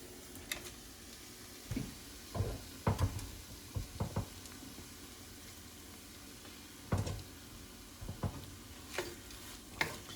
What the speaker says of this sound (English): before our eggs get too done, I'm going to add the bacon to it